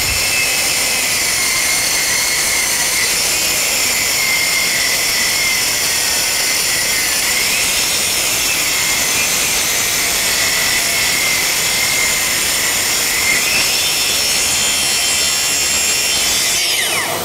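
A Festool TSC 55 REB cordless plunge saw runs continuously through 40 mm chipboard, a steady loud whining cut with a harsh buzzing edge that holds for the whole stretch without pause.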